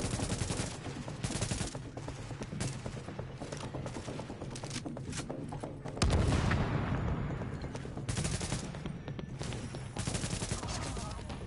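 Enemy gunfire in The Division video game: rapid, dense bursts of automatic fire crackle almost nonstop, with one heavy thumping blast midway and faint talk underneath.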